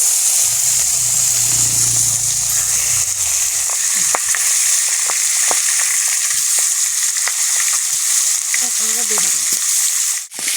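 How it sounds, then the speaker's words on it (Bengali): Fish sizzling in hot oil in a pan, a loud, steady crackle that runs the whole time, with occasional clinks as the pieces are stirred or turned. "মাছগুলো ভাজা হচ্ছে"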